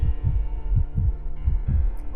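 Heartbeat sound effect in a Korean horror radio drama: a steady, loud, low double-thump pulse, about two beats per second, heard alone over a faint hum.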